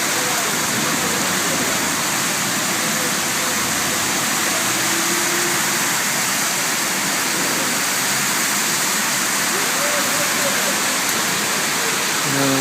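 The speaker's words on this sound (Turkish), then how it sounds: "Sokak nehir oldu arkadaşlar inanamıyorum." Floodwater rushes down a city street in Istanbul like a small river, a loud, continuous broadband roar with no break, close by, with faint voices beneath.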